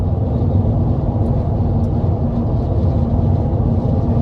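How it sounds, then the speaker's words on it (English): Steady, loud interior road and wind roar fills a 2014 Mercedes-Benz SLK 350 convertible with a 3.5 V6 at cruising speed, a continuous low rumble with no speech. "Just a little bit of wind noise, but road noise not terrible."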